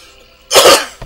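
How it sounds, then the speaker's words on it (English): A single sharp, close cough bursts out after a quiet moment, followed by a faint breathy tail. "Excuse me again, I keep coughing."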